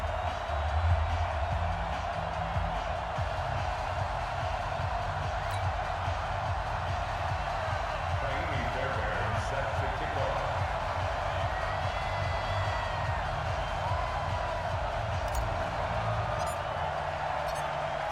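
A sold-out stadium crowd in Madden NFL 20 fills the background with a steady, dense roar at Foxborough for a Patriots–Texans game, continuous and even throughout, with occasional faint commentary underneath.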